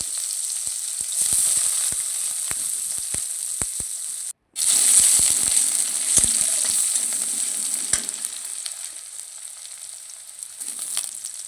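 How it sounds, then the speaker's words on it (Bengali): Chopped onions sizzle steadily in hot oil in a pan, a loud continuous frying hiss with occasional stirring clicks and a brief break in the middle. "আমি পেঁয়াজ কুচিগুলো দিয়ে দিলাম।"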